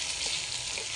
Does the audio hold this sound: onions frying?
yes